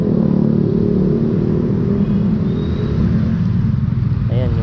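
Motorcycles of a fraternity anniversary parade rumbling past, a continuous loud low engine drone with a rev near the end.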